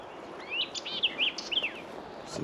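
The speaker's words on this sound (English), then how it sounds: "So nice to hear the birds singing." Birds sing close by outdoors on hunting land near a game trail, a quick run of bright, looping whistled chirps over a quiet background hiss.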